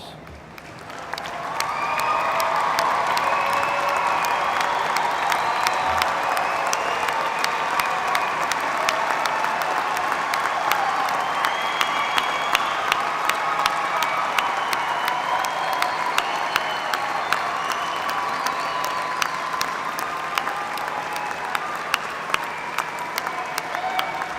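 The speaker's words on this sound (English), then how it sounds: "Please stand and receive our applause." A large audience at a Monmouth University graduate commencement gives graduates long, steady applause. The clapping swells after a quiet start and continues evenly for over twenty seconds.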